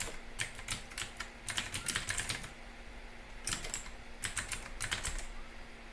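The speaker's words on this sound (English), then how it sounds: "So let's type it in." Code typed on a computer keyboard, close and fairly quiet: several short bursts of rapid key clicks separated by brief pauses.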